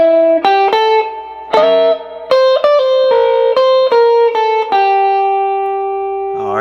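Electric guitar plays a jump blues lick in two joined parts, a quick run of clean, slightly effected single notes with crisp attacks and short pauses, ending on a long ringing note, close and loud with no talking.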